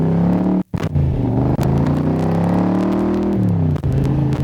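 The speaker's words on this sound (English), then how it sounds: "I know you'd rather listen to those pipes anyway" A 1965 Shelby Cobra replica, a Superformance MKIII, rumbles through its exhaust pipes with a loud, deep, continuous drone heard from on board, shifting pitch as it accelerates with a brief gap near the start.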